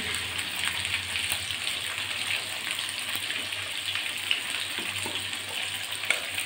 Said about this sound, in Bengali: আমি আলুগুলো লাল লাল করে ভেজে নেব।